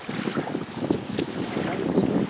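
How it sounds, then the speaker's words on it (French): Gusty wind buffets an outdoor site by an old forge, a rough, rumbling roar that swells and eases, with no voices heard. "Il y a du vent."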